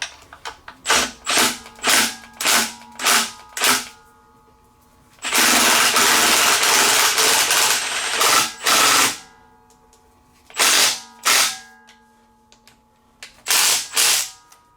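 A Milwaukee impact gun fires in repeated short rattling bursts, with one long sustained run in the middle, loud and close, during a Mustang timing cover and front accessory drive reassembly, with no talk.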